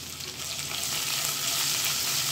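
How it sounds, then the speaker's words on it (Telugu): Onions and chillies sizzle steadily in a hot pan for rava upma, a dense broadband crackle that stays close and even throughout without any voices. "ఇప్పుడు మన ఆనియన్స్ అండ్ చిల్లీస్ ఉన్నాయి కదా, ఇవి వేసి ఫ్రై చేసుకుందాం."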